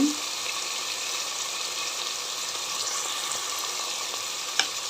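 Mint leaves sizzle with turmeric in oil in a frying pan while making mint chutney: a steady, close hiss of frying with soft stirring scrapes, plus one sharp clink near the end.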